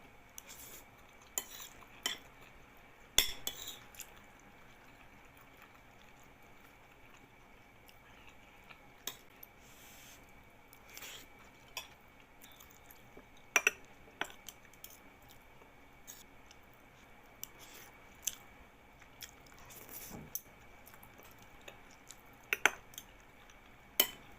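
Spoons clink lightly against dishes during a meal of tomato, onion and egg soup, with scattered sharp taps over a quiet room and no talking.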